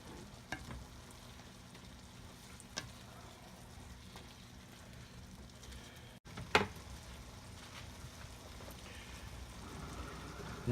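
Roux cooks in a pot for shrimp étouffée while a spoon stirs it. A faint, steady sizzle runs under soft scraping, with one louder clatter midway.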